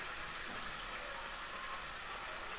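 Ginger and chilli paste sizzles in hot oil with melted sugar while cooking a hilsa fish head and potato curry, a steady bright frying hiss that continues without pause and with no talking.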